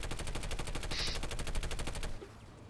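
Planetside 2 gunfire: a dense, rapid automatic burst of evenly spaced shots hammers loudly for about two seconds, then cuts off, leaving a quieter ambient hum.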